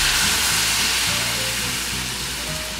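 Diced onion frying in a pan, a loud, steady sizzle with crackling spatter that stays close and continuous throughout, with no talking.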